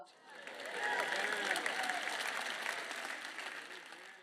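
Audience applause from a church gathering, a dense wash of clapping hands that swells after a quiet start and holds steady, moderately loud, for several seconds.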